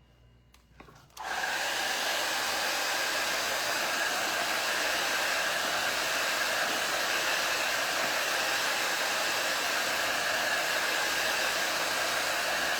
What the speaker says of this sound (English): It doesn't take very long for it to dry, even if you don't dry it with a dryer.